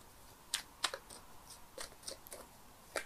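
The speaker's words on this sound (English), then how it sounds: "I'm shuffling the cards here" Soft, irregular papery flicks and riffles of tarot cards being shuffled close by, quiet taps spaced unevenly with no voices.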